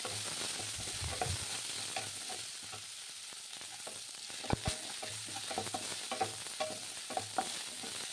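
Bitter gourd and potato fry in a pan with a steady close sizzle, punctuated by scattered scraping and tapping stir strokes, with no voices.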